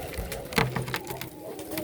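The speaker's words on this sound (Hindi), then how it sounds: "और इसमें कबूतर बैठा हुआ है, ये है कबूतर" A soft, low pigeon coo rises briefly amid a murky, rustling background, faint and close with no clear talking; a pigeon kept together with rabbits in Riyadh, Saudi Arabia.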